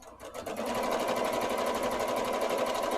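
A sewing machine stitching steadily in free motion quilting, a continuous close, loud mechanical whir with a rapid even needle rhythm running without a break.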